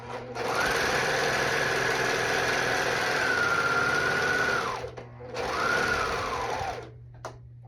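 A serger sewing machine running three needles stitches fabric, a steady close whirring hum for several seconds, a brief pause, then a shorter second run.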